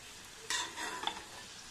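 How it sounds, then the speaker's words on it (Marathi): Masvadi pieces fry in hot oil with a quiet hiss that swells into a brief bubbling burst as more go in, then settles back to a low sizzle. "आता सर्व वड्या आपण असे तळून घेणार आहे"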